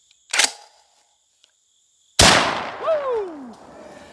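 A Rock Island Armory VRPF14 shotgun loaded with buckshot fires at pumpkins outdoors: a brief sharp crack is followed about two seconds later by a loud close blast with a ringing decay, and a whooping voice rises after it.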